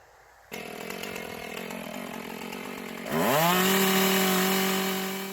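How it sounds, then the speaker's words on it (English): A chainsaw starts up and idles roughly, then revs hard into a loud rising whine as it bites into a wooden barn post with a horizontal cut, running alone without any talking. "get ready to fire up that chainsaw and cap these posts"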